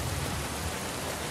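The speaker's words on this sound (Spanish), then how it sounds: "Está lloviendo" Heavy rain pours down in The Last of Us Part II during a stormy scene, a dense, steady roaring wash of drops with low rumbling beneath, loud and unbroken.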